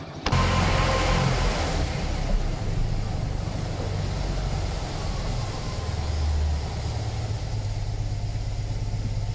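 A Fiat 126p Maluch engine runs steadily right after starting, a continuous close, loud mid-pitched drone with low throbbing and slight rises in revs, no voices present.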